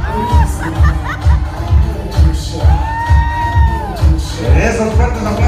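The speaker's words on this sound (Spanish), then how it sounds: "Esos fuertes aplausos para ellos dos" Wedding guests at a bride and groom's entrance cheer and shout over rhythmic bass-heavy music, a lively crowd with whoops and a sustained call rising above the beat.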